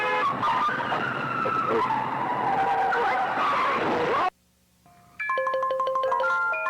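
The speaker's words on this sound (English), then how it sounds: "You crashed your car." Video game car skids with a long, loud screeching tire squeal and roaring engine for several seconds, followed by a sudden cut to near silence and then a burst of electronic tones.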